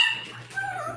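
A dog yips and whines in a brief, high, strained burst, close by, over a faint low hum.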